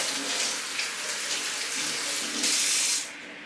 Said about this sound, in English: I'm going to wash my hands and put some gloves on